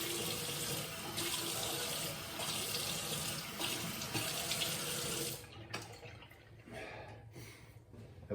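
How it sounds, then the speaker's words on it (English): Water runs steadily from a tap into a sink for several seconds, then stops, followed by dripping and light splashing. "I'm gonna rinse with cold water as well."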